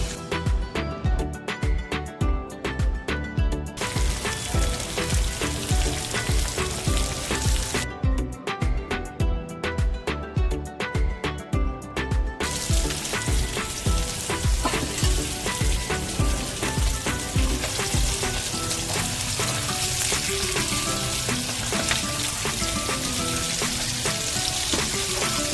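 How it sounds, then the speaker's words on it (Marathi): Surmai fish slices fry in hot oil with garlic and curry leaves, a loud, dense, continuous sizzle with fine crackling bursts close up and no talking. "सुरमई फ्राय झालेली आहे।"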